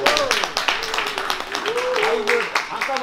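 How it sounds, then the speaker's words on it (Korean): An audience at a Korean literary award ceremony and book launch claps, with a dense, steady patter of hands under a prominent voice that continues throughout. "박수."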